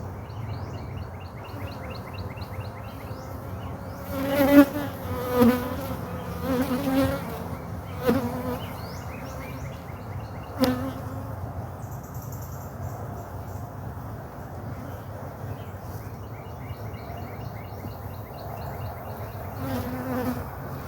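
Honey bees buzz around an open hive box, a soft, steady droning hum close by with occasional louder passes of individual bees, a few faint bird chirps in the background, and no talk.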